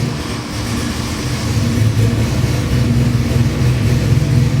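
427 Windsor small-block Ford crate engine with EFI running on a dyno, a steady loud rumbling idle with a low throbbing hum that firms up after a brief start.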